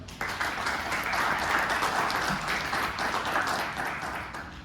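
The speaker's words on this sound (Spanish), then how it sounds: "También pido un fuerte aplauso para él." An audience at a panel discussion gives a loud round of applause, dense clapping from many hands that holds steady for several seconds before starting to taper off at the end.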